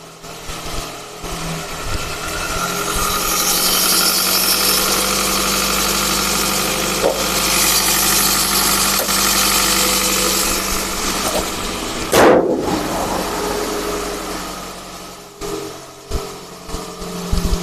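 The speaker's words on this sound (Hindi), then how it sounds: "गाड़ी थोड़ी वार्म अप हो जाए तो फिर निकलते हैं।" A car engine idles steadily up close as it warms up on a cold morning, a constant low rumble with a brief clunk partway through and slight unevenness toward the end.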